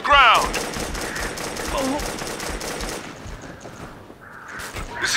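Gunfire in the military shooter Operation Flashpoint: Red River, rapid automatic bursts rattling loudly up close, with a brief voice exclaiming over the shooting.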